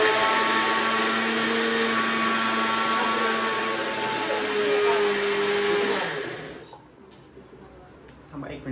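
An old kitchen mixer whirs loudly and steadily for about six seconds, then winds down and stops, leaving quieter room sound with a few faint clicks.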